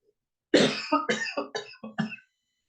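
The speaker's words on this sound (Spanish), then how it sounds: "Disculpe, sigo mal de la tos." A burst of several harsh coughs in quick succession, close and loud, fading after about two seconds into silence.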